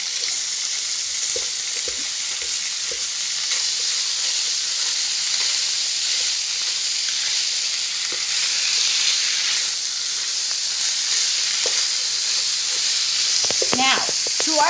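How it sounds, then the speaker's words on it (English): Beef chorizo sizzles steadily in a hot electric skillet, a constant crackling hiss with occasional scraping and stirring sounds, louder clinks near the end. "We're going to spread this around and get it frying up good."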